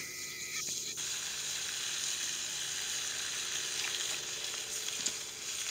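Food fries in a pan at a backyard barbecue, giving a steady, soft sizzle and hiss with a few faint clicks and pops, heard alone without talking.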